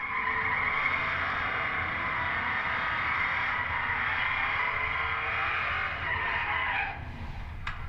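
A drag racing car makes a full pass down the track at a Midwest drags event, a sustained loud roaring engine drone with steady intensity that eases slightly near the end, heard from trackside with no talk.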